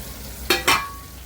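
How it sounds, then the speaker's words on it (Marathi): Masala frying in a pan gets two quick scrapes of a spoon, sharp stirring strokes close up over a faint background sizzle. "चमच्याने थोडं परतून घेऊया"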